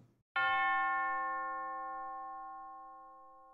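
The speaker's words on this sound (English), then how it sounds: "So here is the tubular bells." An orchestral tubular bell sampled from a percussion library rings one bright, sharp strike, and its metallic tone sustains and slowly decays over a few seconds, alone and clear.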